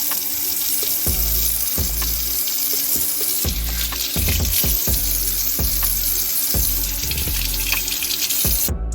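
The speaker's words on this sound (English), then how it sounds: "we'll have to get these cucumbers and tomatoes washed so that everything is clean" Tap water runs steadily over cucumbers and tomatoes in a kitchen sink, a continuous close splash broken by repeated thumps and knocks as the vegetables are handled and rinsed, with no talking.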